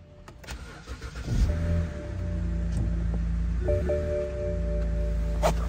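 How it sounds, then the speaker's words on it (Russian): A BMW with an N52 engine cold-starting after sitting for a day: a short starter crank, then the engine catches and settles into a steady idle with a low hum and faint tonal whine, heard up close. "сейчас пробую завести."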